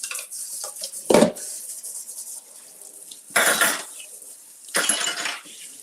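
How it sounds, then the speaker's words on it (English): A dish rinsed at a kitchen sink, with three short bursts of running water hitting the basin between soft clinks of cutlery and glass, close and fairly quiet, no voices. "Let's rinse this out."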